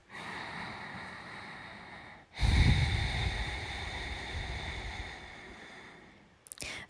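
A person holding a yoga pose takes slow, deep breaths: one long exhale, then a sharp nasal inhale that tapers into a long steady breath, close and intimate over quiet room tone.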